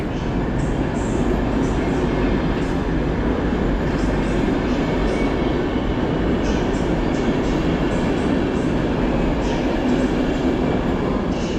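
Intercity passenger train from Berlin pulling into Warszawa Centralna station, a loud continuous rumble of wheels and carriages with rhythmic clatter and occasional high squeals echoing through the underground platform.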